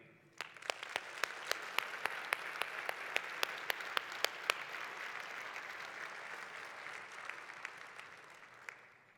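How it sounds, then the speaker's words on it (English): An audience claps steadily, a dense wash of applause with a few sharper claps standing out, slowly fading toward the end. "please join me in a round of applause"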